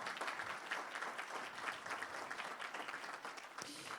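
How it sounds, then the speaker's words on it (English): A seated crowd at an awards event in Watertown, South Dakota, claps in a steady, continuous round of applause, fairly soft and distant-sounding, with no talking over it. "if you would please stand and give her a round of applause"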